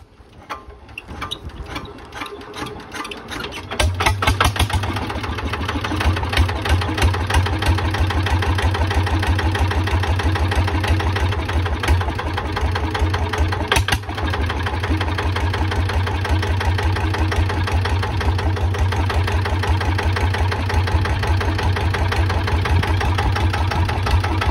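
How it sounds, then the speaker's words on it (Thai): A motorcycle fitted with a newly installed aftermarket exhaust pipe idles in neutral, a loud, close, rapid thumping putter that settles into a steady rhythm after a few seconds of lighter mechanical clatter, with no talking. "เดี๋ยวลองฟังเสียงกันนะ เปิดเสียงเป็นไงเดี๋ยวลุงน้อยเปิดเกียร์ว่างก่อน"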